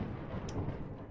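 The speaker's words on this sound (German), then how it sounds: "wir haben Gewitter" Thunder rumbles during a Minecraft thunderstorm, a brief deep low roll with rain hiss, fairly loud and alone.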